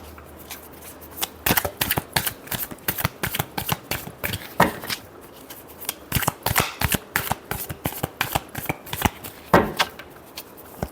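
Tarot cards shuffled by hand, a close, crisp run of rapid riffles and slaps in uneven bursts lasting several seconds, with no voice over them.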